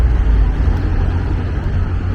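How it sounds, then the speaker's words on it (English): City buses passing on a street in the historic centre of Puebla, Mexico, heard as a loud, continuous low engine rumble and traffic roar, close by and steady throughout. "Some more buses."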